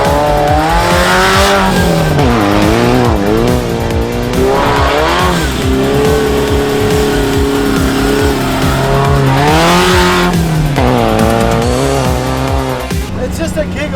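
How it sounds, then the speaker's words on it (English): A Mazda Miata sports car tears over deep off-road whoops at Moab, its engine loud and close, revving steadily with pitch swelling and dipping as it bounds through the bumps. "This is a Mazda Miata ripping through."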